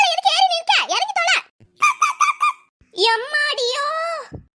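A chicken squawks and clucks loudly and close in three frantic bursts separated by short pauses.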